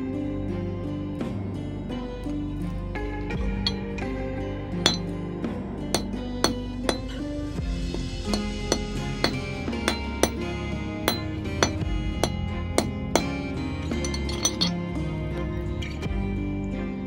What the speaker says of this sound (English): I'm going to take a hammer and hit this ingot of bismuth and watch it break